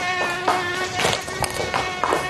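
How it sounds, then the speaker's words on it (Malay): A large mosquito buzzes close by with a steady, high, reedy whine that carries a rich harmonic tone, continuous throughout and unaccompanied by speech. "Ada nyamuk. Besar ni nyamuk."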